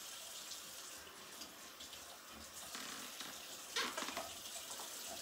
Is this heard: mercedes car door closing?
no